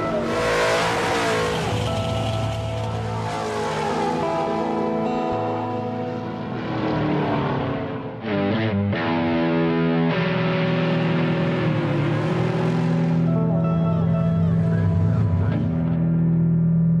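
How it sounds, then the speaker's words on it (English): Cars race at a drag strip, with loud, roaring engines rising in pitch as they accelerate and a brief tire squeal over a continuous wash of noise. "Every Thursday, a whole bunch of fans congregate at this drag strip to enjoy the sights,"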